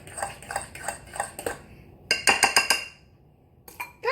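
A utensil clinks and taps rhythmically against a bowl while stirring banana muffin batter of mashed banana, sugar, oil and egg: a few quick strokes, a pause, a burst of faster clinks, then more.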